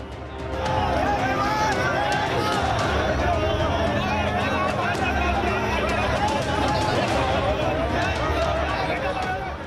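Protesting farmers marching against farm laws surge in uproar on a Mumbai street between Azad Maidan and Raj Bhavan, a dense, loud, continuous crowd roar of overlapping shouts and babble with no pause.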